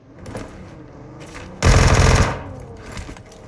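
Gunfire in a first-person shooter video game: a loud burst of rapid automatic fire stands out, with fainter shots and game sounds before and after it.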